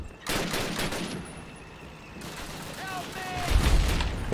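Bursts of gunfire in the game Call of Duty: United Offensive crackle through a busy mix, with electronic tones and a louder burst near the end; a voice talks underneath.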